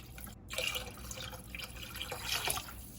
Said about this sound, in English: I'm gonna add another cup of water to bring it up to 5 cups